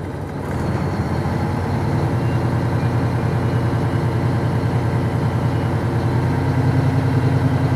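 A truck engine runs loud and close throughout an air brake test, revved with the accelerator to build air pressure, giving a steady, deep rumbling drone that rises slightly after the first second.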